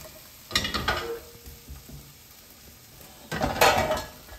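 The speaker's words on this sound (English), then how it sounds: "I'm gonna go ahead and add in my onions, garlic, peppers" Onions, garlic and peppers going into a big pot for minestrone soup make two separate bursts of clattering and light sizzling, close by, with a quiet lull between them.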